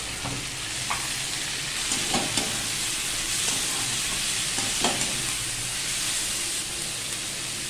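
Chopped onion and chili are added to fried rice with curry leaves and tomato in a pan, then stirred through; a loud, steady sizzle carries repeated scraping and tapping of the spoon at irregular intervals.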